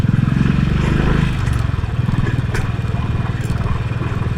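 A motorcycle being ridden, heard from the rider's position: a loud, steady engine drone with a rhythmic pulsing throb, easing slightly after the first second, and a few faint clicks and rattles over it.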